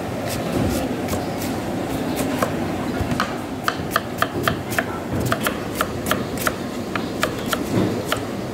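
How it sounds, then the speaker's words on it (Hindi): A knife chops onions coarsely on a board in a home kitchen making kadai gravy, with a steady run of sharp, close taps that grow more frequent, under a continuous low background hum. "अब हम सबसे पहले प्याज चॉप करेंगे। प्याज को आप फाइन चॉप ना करें, थोड़ा मोटा काटना है हमें इस तरीके से।"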